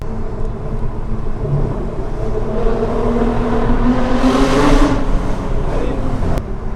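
A 2012 Hyundai Genesis Coupé with a 3.8-litre 303 hp V6 revs up through a gear change, its engine note climbing and swelling to a loud peak before easing off.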